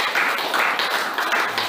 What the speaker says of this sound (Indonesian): tepuk tangan buat Karti